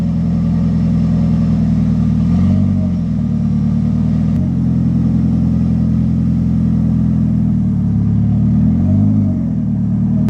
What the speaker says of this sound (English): It fires right up. I mean, it's a reliable motor.